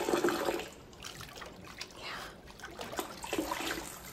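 Water is poured to rinse someone off during a bath, making a soft, continuous splashing and trickling for a few seconds, fairly quiet and close, with no talking.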